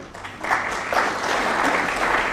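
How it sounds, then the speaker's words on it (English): A crowd at a snooker match claps steadily for a couple of seconds at the end of a frame, a broad sustained wash of applause with no voices on top. "The applause from the crowd."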